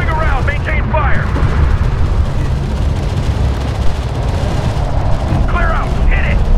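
Continuous rattling gunfire and heavy cannon blasts from a desert battle in the strategy game Homeworld: Deserts of Kharak, dense and steady throughout with brief radio-style voices breaking through.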